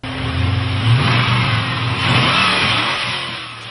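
A Volvo super wagon called the Volvette, with a boosted engine making 544 wheel horsepower, revs loudly and closely, its engine note rising and falling in a sustained roar.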